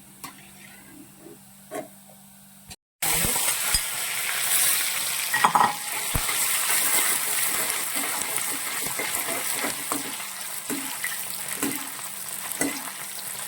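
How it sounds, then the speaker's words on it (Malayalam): Sliced onions frying in a pan until golden brown, a brief quiet moment and then a loud, continuous close sizzle with stirring scrapes and light spatter, voices faintly under it. "ഉള്ളി നന്നായിട്ട് ഗോൾഡൻ ബ്രൗൺ ആവുന്നത് വരെ മൂപ്പിച്ചെടുക്കണം"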